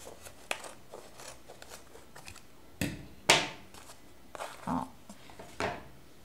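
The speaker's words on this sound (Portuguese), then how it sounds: "depois que você tiver passado todas as tiras que você precisar, você vai cortar só de um lado." Scissors snip through crochet yarn strips for a shawl's fringe, giving a few sharp, close cuts spaced irregularly among soft handling rustles in a quiet room.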